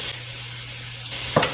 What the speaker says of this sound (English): Kind of get it started, get it frying up a little.